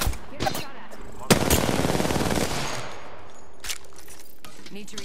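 Rapid automatic weapon fire in Apex Legends, a dense burst of close, loud shots lasting about two seconds, with scattered single reports and brief voice chatter around it.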